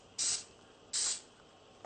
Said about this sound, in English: you spray them there